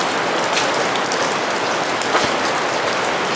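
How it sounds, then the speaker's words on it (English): Rain dripping from a bluff overhead onto a soaked hiking trail along the Duck River, a dense steady patter close by with a few heavier individual drops standing out. "The drops of rain are coming from the bluff up above."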